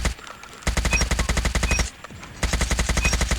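An HBRa3 assault rifle fires in fast automatic bursts in a shooter game, evenly spaced loud close shots in a tight rhythm, pausing briefly before the next stream of fire.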